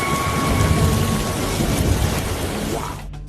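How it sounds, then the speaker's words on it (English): Heavy nighttime rain pouring loudly with a deep rolling thunder rumble beneath it, dense and continuous throughout. "during a heavy rain and thunderstorm"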